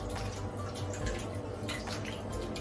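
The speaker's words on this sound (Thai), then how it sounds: "เราก็จะใส่ผลยุสือนะ" Yuzu citrus fruits dropped into a home bath for a Japanese onsen-style soak: continuous close splashing and dripping water with small sloshes throughout.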